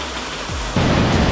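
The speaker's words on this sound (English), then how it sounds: "Amazing waterfall." A steady rush of falling water from a waterfall in Venezuela's Gran Sabana, loud and close, swelling suddenly about halfway through.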